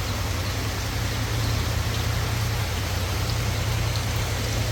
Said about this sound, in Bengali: এখন জোরও নামতেছে বৃষ্টি।